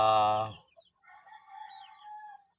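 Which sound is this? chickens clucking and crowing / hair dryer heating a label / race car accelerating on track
chickens clucking and crowing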